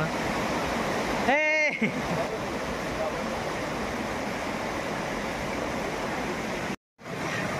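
Water rushes from the Navli village waterfall, a loud and unbroken roar during heavy rain. A short voiced call rises over it near the start, and the roar drops out for a moment near the end.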